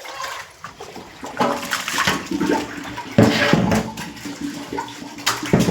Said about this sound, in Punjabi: ਬਾਲਾ ਪਾਣੀ ਪਾਉਂਦਾ ਬੁੜੀਆਂ ਵੀ ਥੋੜਾ ਪਾ ਲਓ